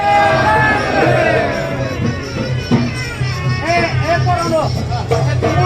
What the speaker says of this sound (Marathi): भाविकांची गर्दी वाढलेली आहे दर्शन घेण्यासाठी